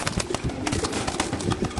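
Caged pigeons, BRPFC racers, cooing close by in a steady, dense murmur of soft overlapping coos.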